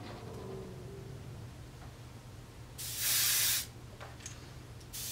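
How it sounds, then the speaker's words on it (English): Two short bursts of spray paint hiss, one about a second long and then a brief second one, as green is sprayed lightly over yellow on a baby bass lipless crankbait. A low steady hum sits underneath. "now we're going to take this green, and we're going to spray it over the yellow that we just painted on"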